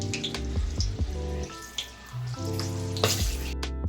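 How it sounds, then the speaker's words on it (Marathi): Plain green chillies fry in hot oil in a home kitchen, with crackling sizzle and irregular popping droplets over steady bubbling, close and clear. "आता आपण मिरच्या तळूया त्याच्यासोबत खायला अशा छान"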